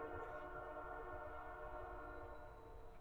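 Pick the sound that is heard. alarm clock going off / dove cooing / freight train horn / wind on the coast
freight train horn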